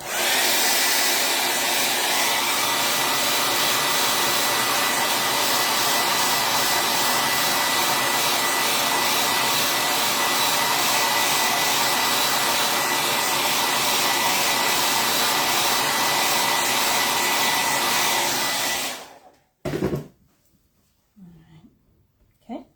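A loud hair dryer blows continuously for about twenty seconds, drying a craft project, then cuts off abruptly, leaving brief rustles and faint handling sounds.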